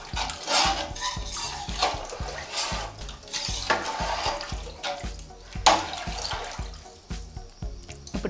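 Water is poured from glasses into a pot for Andhra-style prawn biryani, splashing and gurgling close up in repeated pours that start and stop, with no voices.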